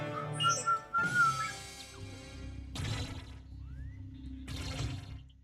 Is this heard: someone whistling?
yes